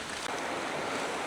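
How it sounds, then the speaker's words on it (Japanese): A clear river flowing through a quiet mountain gorge in Osaka, giving a steady, full rushing wash of water close by with no talk. "川が綺麗です。"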